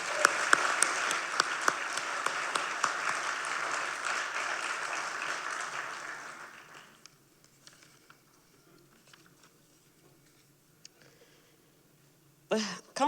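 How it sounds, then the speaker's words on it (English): A civic audience at a State of the City address applauds departing city councillors, a steady wash of clapping for about six seconds that fades out to near quiet, with a few stray claps afterward. "So let's applaud them as well."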